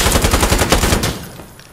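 A PKM machine gun fires in Insurgency Sandstorm: a loud, close, rapid burst of about ten evenly spaced shots, then a ringing decay as the firing stops.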